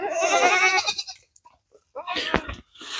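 A goat on a farm in winter lets out a long, wavering bleat close by, and after a short pause a person speaks nearby.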